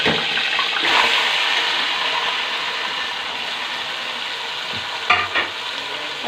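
Chopped onions frying in a pan, a steady broadband hiss of sizzling oil throughout, with a faint clink of stirring near the end.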